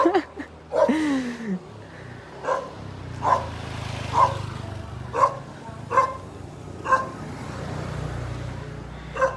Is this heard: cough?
no